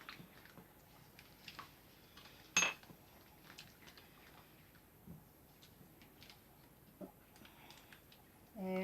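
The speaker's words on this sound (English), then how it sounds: "So mix that in." A spoon mixing peanut dip for satay chicken, soft scattered clinks and scrapes against a bowl, faint and close, with a louder knock partway through and a voice speaking quietly at the end.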